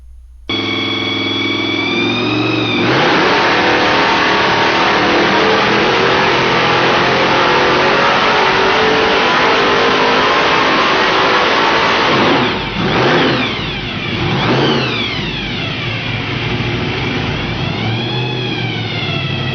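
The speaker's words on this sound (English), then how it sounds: "This video is of a small block Ford engine with a roots blower mounted on top of it." A small-block Ford V8 with a Roots supercharger roars loudly, revving hard with a whining blower, then its pitch swoops down and up in several sweeping revs near the end.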